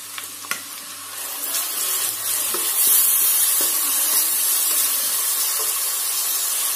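Onion, green chilli, ginger and garlic frying in butter over a medium flame: a loud, continuous close sizzle with a few stirring knocks near the start, no voices.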